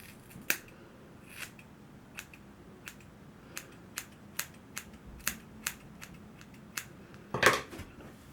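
Scissors trim long hair at home, giving a run of soft, crisp snips at an uneven pace, close and quiet, with no talking.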